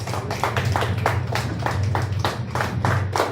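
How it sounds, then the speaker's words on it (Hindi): Audience members at a workers' award ceremony clap in a steady, rhythmic unison beat, loud and fairly close, with a low hum of murmuring beneath. "एक बार जोरदार तालियां बजा दें।"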